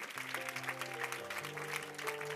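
Church congregation clapping hands during a service, quiet rhythmic claps over sustained musical tones, rather faint overall.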